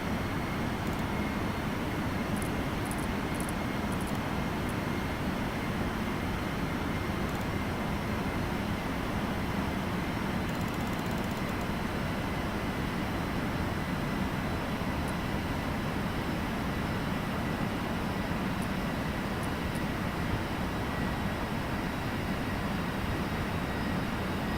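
Steady broadband roar of Boeing 747-200F jet engines in flight in the X-Plane 12 flight simulator, constant and unbroken throughout with no pauses or talk.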